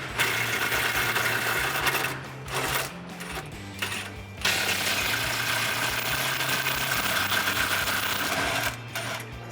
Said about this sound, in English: Also using an impact wrench to make it a little bit easier.